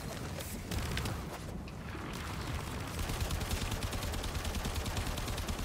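Dense, rapid gunfire in the video game Warframe rattles nonstop, loud and overlapping like a continuous hail of shots with booming undertones.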